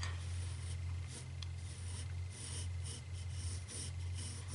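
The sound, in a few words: pencil drawing on paper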